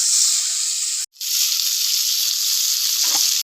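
Onion frying in oil in a home kitchen for an egg curry, a loud steady sizzle and hiss broken by a brief pause and a faint clink near the end.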